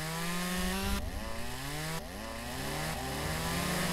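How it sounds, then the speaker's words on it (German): Chainsaw in the logging game Lumberjack's Dynasty cutting through bushes, a loud steady engine whine with pitch dips and revving sweeps as it bites into growth, running continuously throughout. "Also die Kettensäge, das ist wirklich was Gutes, da haben wir uns keinen billigen Scheiß gekauft."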